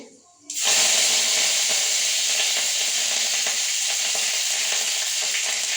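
Curry leaves and grain spices hit hot oil with a sudden loud burst of sizzling after a brief quiet moment, then a steady, dense crackling hiss continues close up.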